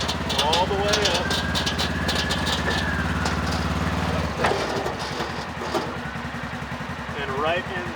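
A Polaris side-by-side engine steadily throttles up as the vehicle climbs onto a trailer, a loud, close drone that drops to a lower rumble partway through, with chirping birds in the background.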